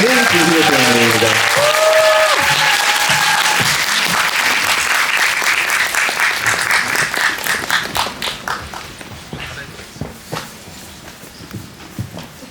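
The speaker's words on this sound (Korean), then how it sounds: "박수 부탁드립니다" A cinema audience at a film screening Q&A claps loudly to welcome director Yeon Sang-ho and an actor, a voice speaking over the start; the dense applause thins into scattered individual claps and fades out.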